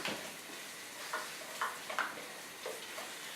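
Flour cooking in a pot for corn chowder, a soft low sizzle with light stirring scrapes and a handful of small ticks, faint and close, no voices.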